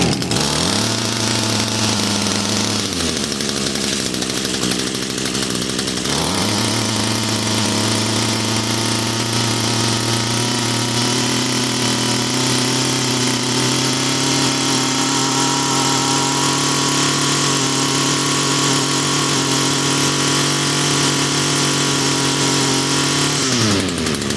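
An Echo PAS-225 two-stroke engine with the choke off runs at full throttle, a loud, buzzing high-revving drone that dips briefly early on and then holds steady close up.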